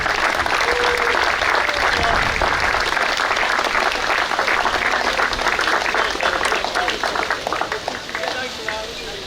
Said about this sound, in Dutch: En van jullie wil ik een geweldig applaus vragen voor Noé uit Venrooy.